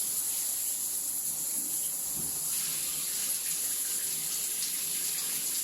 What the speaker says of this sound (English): let's go back to the other shower head.